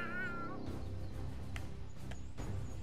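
A cat meows in South Park: The Fractured But Whole, giving one wavering cry at the start over a steady game music bed, with faint sharp clicks that follow.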